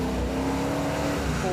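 A Dodge Challenger on a race track, its engine droning with a steady low tone and rising revs, loud and continuous throughout.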